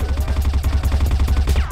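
M4 rifle fired in full-auto spray in a first-person shooter game: rapid, evenly spaced shots in a steady stream, loud and close, with no pauses.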